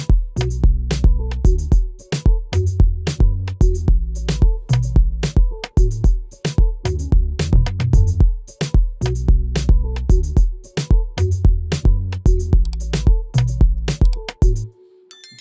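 Clean electric piano from the Sakura BS Clean Electric patch rides over a loud, busy Afrobeat drum groove, steady kicks and percussive hits driving throughout before the loop cuts off near the end, no voices.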